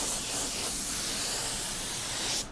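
Automotive spray gun laying down metallic paint with a tight fan, producing a steady close hiss of atomized spray that holds evenly for a couple of seconds, then cuts off abruptly.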